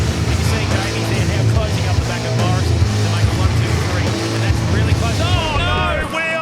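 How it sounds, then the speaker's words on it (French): A Pro Truck V8 rally truck drives at a rallycross event, its V8 engine droning loudly and steadily with shifting pitch, while people speak over it. "Là, on a un Pro Truck V8"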